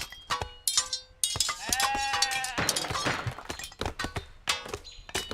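Sheep bleat among the busy sounds of a 0 A.D. strategy game running the Millennium AD Norse mod, their calls mixing with sharp thunks of in-game activity and packed closely through the short stretch.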